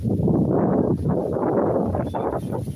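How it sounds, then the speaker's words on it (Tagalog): Steady, heavy rush of wind buffeting the microphone, a constant low roar with gusty swells and no voices. "Hangin, oh. Malakas ang hangin."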